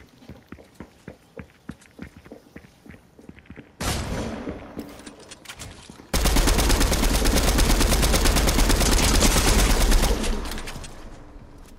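Fortnite gunfire: a run of short, evenly spaced shots, then a loud dense burst and a sustained roar of in-game shooting and noise that continues to near the end.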